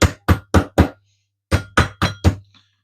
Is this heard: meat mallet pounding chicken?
yes